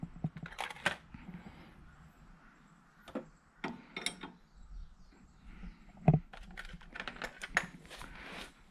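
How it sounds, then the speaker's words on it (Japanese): A wrench works on a lock nut on the suspension of an eK Sport H81W car, giving scattered sharp metallic clicks and ratcheting taps, close and irregular, in a fairly quiet garage. "そしたら最後にこちらのロックナットを締め付けます。"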